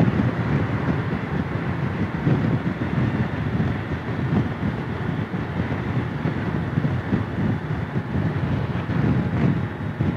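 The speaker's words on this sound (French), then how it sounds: "il y a le vent, parce que je passe le pont" Steady, loud wind buffeting a microphone while riding a BMW K1600GT motorcycle over a bridge, a continuous low roaring rush with no breaks.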